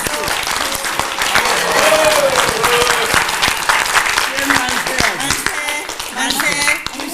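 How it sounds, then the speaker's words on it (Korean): Sustained crowd applause at a Korean church gathering, many hands clapping in a thick, even wash with voices mixed in, loud and near. "네 신편아 박수."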